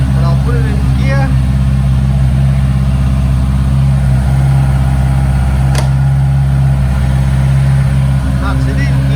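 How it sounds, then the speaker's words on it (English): A Honda CBR650R motorcycle engine idles steadily and close by throughout, a constant low drone with no revving. "Fire the bike up."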